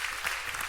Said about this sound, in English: Give him a round of applause right here